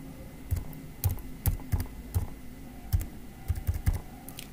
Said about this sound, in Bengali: সেই গাড়ির নাম্বারটি এখানে টাইপ করে দেবেন।